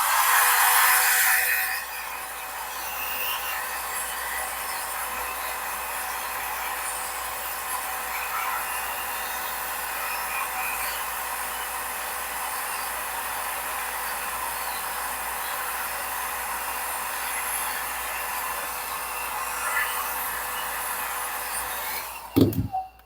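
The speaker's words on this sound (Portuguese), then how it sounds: "E tô tirando toda a umidade com o secador." A steady, loud blowing hiss from a hair dryer held close, drying pleated dress fabric, ending with a short clatter.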